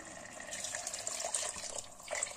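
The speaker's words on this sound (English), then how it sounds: "We pour in the milk." Coconut milk pours from a sieve into a pot of rice for Nigerian coconut fried rice, a steady, close liquid stream splashing continuously.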